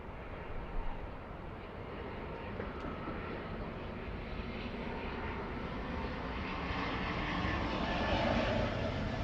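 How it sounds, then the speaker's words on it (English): Delta airliner on a roughly two-hour flight in from Portland, Oregon, approaching Boston at night; a steady, broad jet engine roar holds throughout, fairly distant and building slightly near the end, with no talk. "this is the Delta flight flying in from Portland, Oregon"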